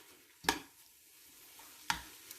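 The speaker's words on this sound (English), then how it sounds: "Keep on stirring so they are not lumpy." Spaghetti stir fry being stirred in a pan, with two sharp scraping strokes of a utensil against the pan over a faint low sizzle, close by and without talk.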